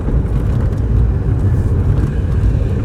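A classic Sunbeam Alpine's engine runs steadily while driving, a continuous low rumble at even loudness with no talking over it.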